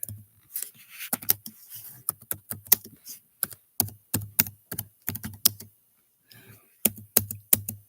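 Rapid clicking of computer keys in uneven bursts with short pauses between, close and crisp, with no talking over it.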